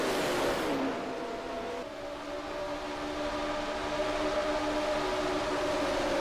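Roblox race car engines hum and whine as they ease off the throttle under engine braking, a sustained tonal drone that shifts pitch, moderately loud and continuous.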